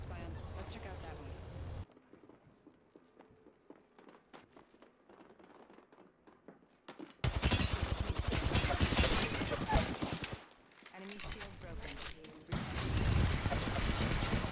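Bursts of video game gunfire in a shooter, loud rapid volleys alternating with quieter stretches, with a player talking over parts of the action.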